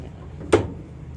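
A retaining pin is pulled from a Hitachi SF-160KJS top-loading washing machine under repair, giving one short, sharp metallic knock or clack up close, with quiet surroundings before and after.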